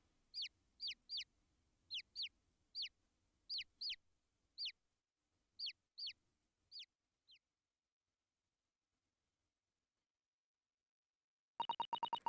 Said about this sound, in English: Oh my god, look at all those chickens.